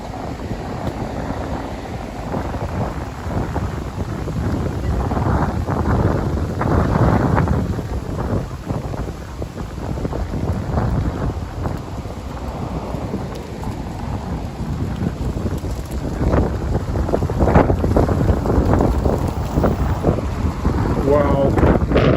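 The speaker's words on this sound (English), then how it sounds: "it's windy." Strong wind buffets the open air on a walk along Vasilyevsky Island in St Petersburg, Russia, a loud, continuous roaring rush with gusts swelling and easing throughout.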